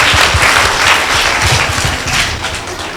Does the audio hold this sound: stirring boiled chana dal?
no